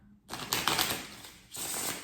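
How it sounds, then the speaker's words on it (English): Tarot cards riffle in two quick bursts of crisp, papery flutter, close up, with a short pause between them. "Let me try to shuffle it one more time."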